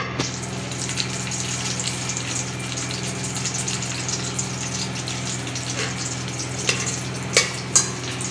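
Whole spices crackle in hot oil for matar pulao, a constant close sizzle with a few sharper pops near the end over a low steady hum, and no one speaks.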